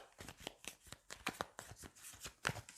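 Cards from a Dune Imperium board game being shuffled in quick, rhythmic riffles, a close run of crisp flutters and snaps lasting a few seconds with no voices.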